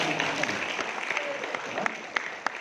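Applause from the audience at an academic ceremony, a fairly quiet and even patter of clapping in a hall, with a few sharper claps standing out toward the end.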